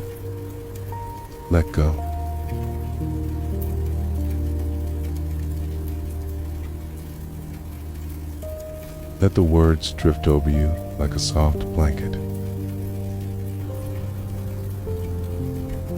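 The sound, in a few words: rain falling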